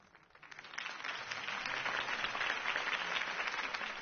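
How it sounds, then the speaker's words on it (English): Applause from a large crowd at a political campaign speech swells within the first second, then holds as a dense, steady wash of clapping, slightly distant. "If only Mr. Wayne, my campaign's largest backer, could have heard that applause"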